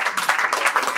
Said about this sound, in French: Applaudissez pour vous-même aussi les champions.